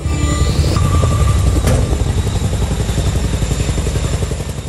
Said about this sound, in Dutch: Er zijn vandaag opnieuw twee helikopters van Defensie stenen aan het droppen bij de gebroken dam in Maastricht.